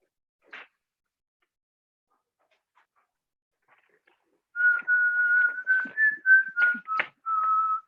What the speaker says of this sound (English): Oh, sorry. I'm whistling sticks.